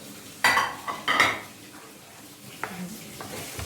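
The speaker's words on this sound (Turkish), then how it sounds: "Şöyle karıştırıyoruz." Sweet milk sponge cake mixture being stirred in a bowl, with a few scraping and clinking utensil strokes against the dish followed by quieter soft stirring, close and fairly faint.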